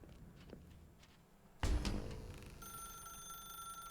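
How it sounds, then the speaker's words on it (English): Telephone ringing in The Stanley Parable video game, a bright bell-like ring that starts abruptly after a quiet stretch and then settles into a steady, sustained electronic tone, fairly loud and heard alone. "Now pick up the phone."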